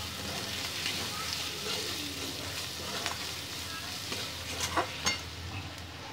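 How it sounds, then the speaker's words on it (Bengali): Cumin powder fries in a pan as part of a chicken dish, giving a quiet, continuous sizzle with a few light scraping stirs near the end, heard close up and alone. "এটা ভাজা হয়ে যাচ্ছে।"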